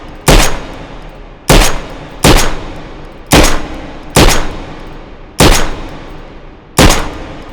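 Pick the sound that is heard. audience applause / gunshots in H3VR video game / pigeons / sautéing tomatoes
gunshots in H3VR video game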